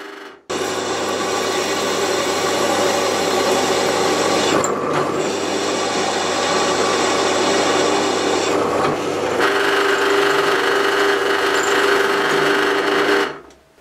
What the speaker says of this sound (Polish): Udało mi się całkiem sprawnie przewiercić ten otwór w blasze 10